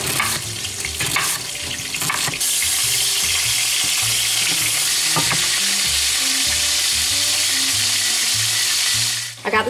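Pork chops fry loudly in a hot pan for Southern pork chops, a steady dense sizzle running throughout with a few clattering knocks and scrapes near the start and a brief break at the end.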